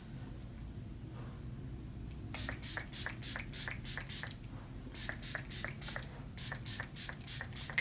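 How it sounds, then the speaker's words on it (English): Juvia's Place setting spray is misted over the eyes during a smoky green eye makeup look. After a quiet start, the pump gives around twenty rapid, close, crisp spritzes in three fast runs. "Now I'm taking the Juvias'S Place setting spray. I'm gonna cover the eyes."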